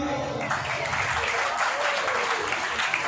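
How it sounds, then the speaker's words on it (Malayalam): An Onam gathering at a tuition centre breaks into loud, sustained applause, a thick continuous patter of many hands with faint crowd murmur beneath. "എല്ലാവർക്കും കൈയടിക്കാം."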